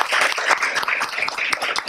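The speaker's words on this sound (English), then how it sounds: "Let's give her a rousing round of applause." A room at a school board meeting breaks into a loud, dense round of clapping for a student walking onto the stage. Many hands beat in a fast, uneven patter that runs nearly the whole time.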